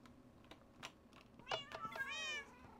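A Siamese cat in a Minecraft game gives one brief, faint meow near the end, over soft clicking like keyboard typing.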